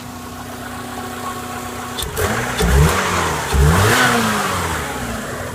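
A 2010 Subaru Legacy with a 6-speed manual idles steadily, then revs up twice in clear bursts before settling back, the engine close and fairly loud throughout.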